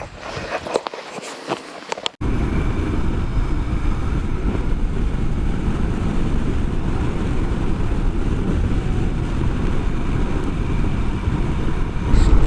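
A Royal Enfield Himalayan motorcycle rides along, its engine drone blending into heavy, constant wind rush that starts abruptly after a brief quieter moment of rustling and handling noises.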